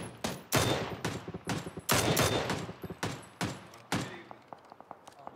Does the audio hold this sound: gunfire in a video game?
yes